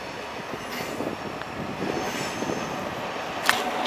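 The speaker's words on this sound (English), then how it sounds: "we've got the Flying Scotsman 91 and the Cross Country HST as well as an 800" Trains at Leeds station, including a Class 91, a Cross Country HST and a Class 800, make a steady rumble of rolling rail wagons with faint wheel squeal and a brief sharp squeak near the end, heard from a platform.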